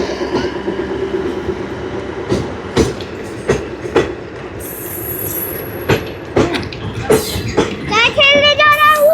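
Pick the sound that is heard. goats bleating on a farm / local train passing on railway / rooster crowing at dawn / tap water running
local train passing on railway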